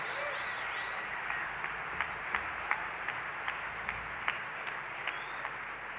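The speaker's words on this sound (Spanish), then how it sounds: "un aplauso para Patán." Live concert audience applauding a musician's bandmate at a 2008 rock show, a dense steady wash of clapping with a few sharper claps and whistles standing out, sustained throughout.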